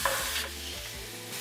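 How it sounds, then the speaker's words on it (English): Ground beef and potatoes fry in a pan with black pepper, a steady close sizzle broken by a few scraping stirs of a utensil, with no talking. "Give that a loving mix, and we're gonna continue to cook for another 3 minutes"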